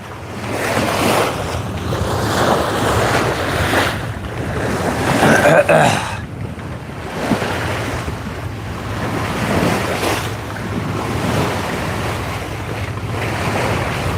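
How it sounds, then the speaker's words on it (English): A sailing boat motors with no sails up on open sea between Dunung Island and Lorengau, Papua New Guinea, its steady low engine drone running under continuous wind and wave wash, with no speech. "We're motoring, Douglas. No sails up."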